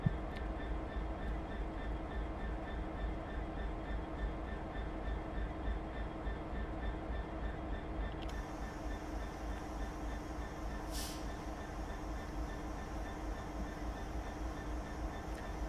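A London Underground Metropolitan Line train runs steadily in Train Simulator Classic, with a continuous low rumble and hum throughout and a brief higher squeal partway through. No voices are heard.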